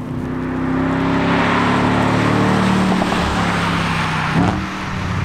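A 2018-era Audi RS4 Avant B8 with a 4.2-litre naturally aspirated 450 hp engine and non-standard exhaust runs close by with a loud, steady droning note that shifts and dips near the end.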